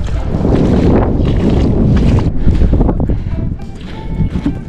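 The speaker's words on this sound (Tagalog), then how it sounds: "Mahangin ngayon dito sa dagat." Strong wind at sea buffeting an unshielded microphone on a small fishing boat, loud rumbling gusts that surge and ease in waves, nearly drowning everything else.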